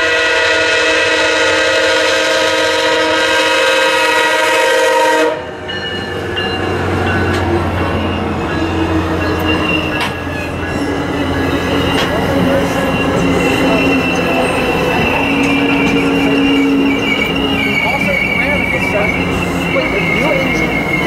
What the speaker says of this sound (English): MARC train P875 is the first westbound Martinsburg-bound MARC train of the day, carrying one MP36 followed by one Sumitomo single-level cars and a few multi-levels.